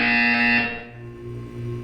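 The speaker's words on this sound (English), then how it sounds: "When you hear the buzzer, look down at the floor." A buzzer in the video game Portal 2 sounds as a loud, harsh electronic tone that holds briefly, then cuts off, leaving a low background hum.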